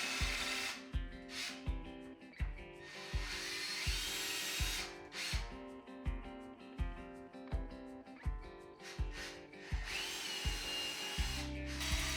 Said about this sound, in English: I didn't have a hammer drill on hand, but my normal drill worked just fine.